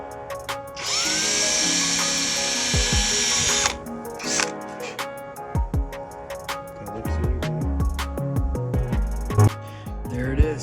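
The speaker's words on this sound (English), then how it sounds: "We're gonna re-drill a hole and re-tap the hole." A drill runs in one steady high whine for about three seconds as it re-drills a hole in a cured JB Weld Kwik mold on a 2000 Johnson outboard spark link part, then gives way to clicking, clattering tool and handling noises.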